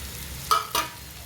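Grated coconut stirred into cooked snake gourd in a pan, two short scraping stirs over a soft steady sizzle, close by, with no talking.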